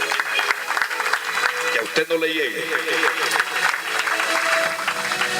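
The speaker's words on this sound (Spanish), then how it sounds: "Le da un aplauso al Señor" A church congregation applauds during a sermon, a steady wash of clapping with the preacher's voice speaking over it.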